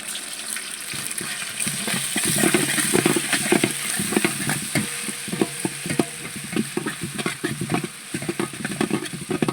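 Ginger and garlic paste sizzling and frying in a pan for a duck khichuri, with steady loud spattering crackle and occasional stirring scrapes throughout, no talking.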